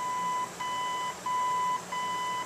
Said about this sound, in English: When you find what you want, you just stop, it will beep once